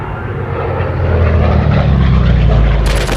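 Propeller-driven warplanes at the Battle of Midway roar overhead, a loud, close, swelling engine drone lasting a few seconds, with narration over it.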